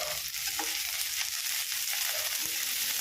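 Green chilies and finely crushed garlic sizzle and fry in hot oil in a pan, a steady bright crackle with occasional stirring scrapes, close and continuous with no talking.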